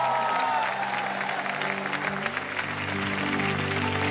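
Studio audience on a comedy show bursting into loud applause, sustained clapping over a held musical tone, steady and full throughout with a touch of cheering.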